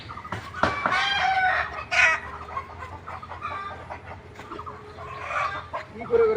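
Chickens cluck and a rooster crows in a hot backyard under coconut trees, the birds fairly close and moderately loud, with people talking faintly in the background.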